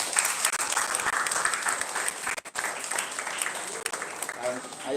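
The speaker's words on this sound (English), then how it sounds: "So I'd like us to give Chase a round of applause." Audience at a primary school spelling competition gives a round of applause, a dense steady wash of clapping sustained for several seconds with a brief dip midway, voices faintly mixed in.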